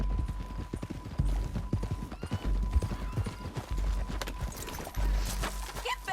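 Rhythmic clip-clop of horse hooves trotting close by in Red Dead Redemption 2, steady throughout, with a brief whinny near the end.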